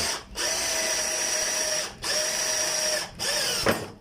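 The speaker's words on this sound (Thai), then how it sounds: "เจาะได้ทุกอย่างจริงๆครับ เจาะปูนผมว่าคงไม่มีปัญหานะครับ ดูกระเบื้องตัวนี้ก็ได้นะครับ" A power drill fitted with an arrowhead bit bores into ceramic floor tile, a steady high whine running in three long bursts separated by brief pauses, close and loud.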